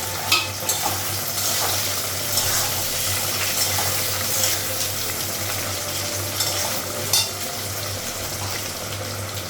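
Potatoes sizzle and fry in a pan while a utensil stirs them in repeated scraping strokes, a steady close-up crackle with occasional clinks.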